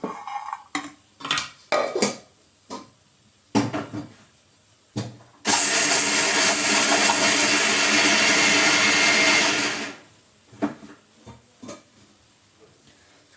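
Mixer grinder pulverizing peanuts with salt into powder, a loud, steady whirring roar of about four and a half seconds, framed by scattered clinks and handling knocks before and after.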